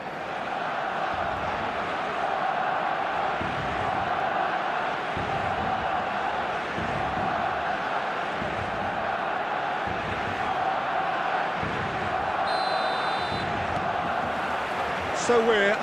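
A stadium crowd in an eFootball match drones and chants in a steady, moderately loud murmur beneath a commentator talking over it, with a few sharp electronic tones near the end.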